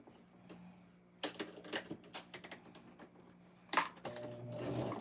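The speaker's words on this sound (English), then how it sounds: "Now I'm going to take it back to my machine and I'm going to stitch a 1/4 inch across." A sewing machine runs a quarter-inch line of stitching across fabric for a pocket tissue pack cover, with short bursts of rapid mechanical clatter, small pauses between runs and a longer steady whir at the end, close and quiet.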